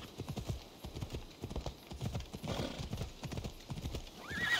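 Rhythmic clip-clop of galloping hooves runs throughout in Assassin's Creed Odyssey, with a horse's whinny rising near the end.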